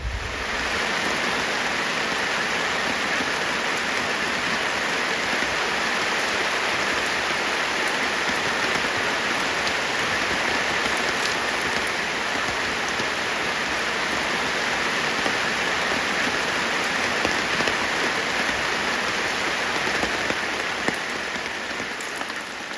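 Steady rain falls at a campsite in Algonquin, a dense, even patter and hiss continuing unbroken, close and fairly loud, with no voices.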